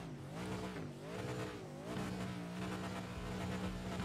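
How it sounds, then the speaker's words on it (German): Mercedes race car in the iRacing simulator at Road Atlanta, its engine droning and rising and falling in pitch through gear changes and throttle, with a bit of tire noise, continuous and close with no talk. "Ja, der Mercedes klingt bullig"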